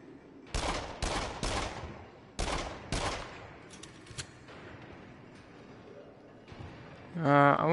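Gunfire in the VR shooter Until Dawn: Rush of Blood, a run of separate sharp loud shots in quick succession, then a few fainter ones, with a voice briefly heard at the end.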